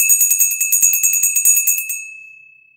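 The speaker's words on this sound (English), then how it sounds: "That is a pretty bell, though." A small bell is struck in quick repeated taps, bright and ringing, then left to fade out alone.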